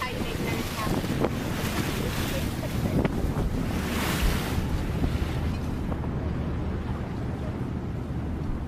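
Strong wind and breaking ocean waves at sea aboard a trawling vessel, a loud continuous roar of wind buffeting the microphone over rushing, surging water, with faint voices briefly audible beneath.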